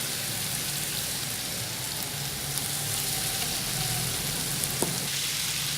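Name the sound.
beef frying in oil for karahi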